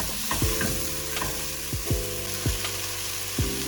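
Vegetables for a cracked-wheat khichdi sauté lightly in a pan, with a soft steady sizzle and about seven or eight distinct scraping stirs of a spoon, close up and with no talking.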